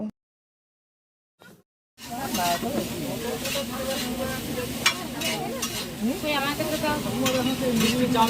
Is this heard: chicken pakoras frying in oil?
yes